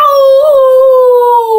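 A single sustained wolf howl, loud and close, holding a steady pitch with a slight waver before gliding gently downward, heard alone with no talking.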